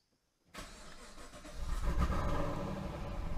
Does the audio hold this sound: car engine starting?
yes